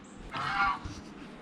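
Geese on a Florida farm give a single short, nasal honk at moderate distance, heard over a steady outdoor background hum.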